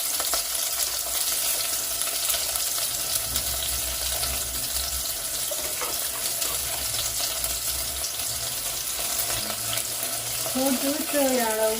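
Pieces of drumstick (moringa) fry in a pan at home, a steady close sizzle and crackle running throughout, with faint stirring and a brief whistling tone near the end.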